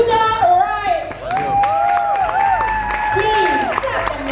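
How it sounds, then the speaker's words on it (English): Audience applause at a beauty pageant in Jamaica as a runner-up is announced, broad clapping and cheering that holds steady throughout under a loud announcer's voice. "Please clap them, ladies and gentlemen."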